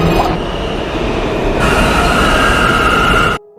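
A train rumbles loudly and steadily with a high metallic whine over the rolling noise, cutting off abruptly at the end.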